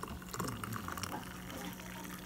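Frothed milk with a little foam pours into coffee, a soft continuous liquid trickle heard close and faint against a quiet background.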